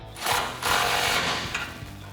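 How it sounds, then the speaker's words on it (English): An 18mm socket on a wrench tightens bolts while a 2013-2018 RAM 1500 off-road front bumper is fitted, giving a close, quick run of rattling mechanical clicks that swell and fade over about two seconds. "Grab your 18mm socket and wrench. Again, you may want your swivel and tighten it down."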